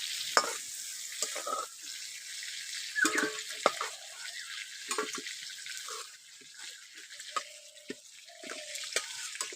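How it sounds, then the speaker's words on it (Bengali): Prawns lightly fried in oil being lifted out of the pan, a steady hiss of frying with scattered clinks and scrapes of a utensil against the metal, close and moderately loud. "চিংড়ি মাছগুলোকে খুব বেশি ভাজবো না, একটু হালকা করে ভেজে নেব।"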